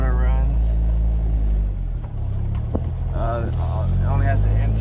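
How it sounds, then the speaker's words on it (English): An Acura RSX Type S with only an intake modification runs with a steady low engine drone throughout, while people talk over it. "see how the motor runs"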